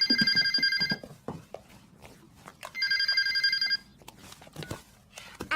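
Telephone ringing in a TV drama scene: two loud electronic trills about a second long each, separated by a pause, heard close with brief footsteps and rustling between rings.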